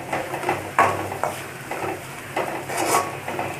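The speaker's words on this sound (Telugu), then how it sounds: "ఇప్పుడు ఇందులో చిటికెడు పసుపు తీసుకొని ఒకసారి కలుపుకుందాం" A pinch of turmeric is stirred into well-fried onion pieces in a pan, with repeated scraping, clinking strokes of a utensil against the metal and a soft sizzle beneath, steady and close.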